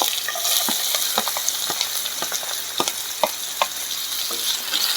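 Chopped ginger and garlic sizzle in hot oil for a beef liver curry masala, a steady close frying hiss broken by quick scraping stirs and small crackles, with no voices.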